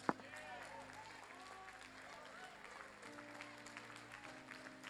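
Church congregation clapping in applause during a Thursday miracle service, a steady crowd wash under sustained musical tones and voices.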